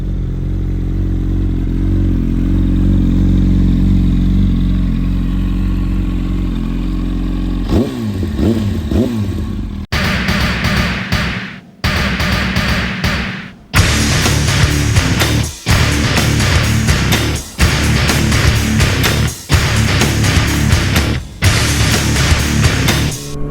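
Loud Yamaha R1 sport motorcycle while riding: a steady engine drone gives way to rising revs, then strong wind-blasted engine roar broken by brief dips, likely gear changes.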